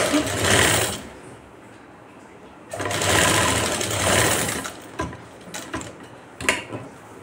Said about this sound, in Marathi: हे पहा अशी सरळ टिप मारून घ्यायची इथे उचलून आणून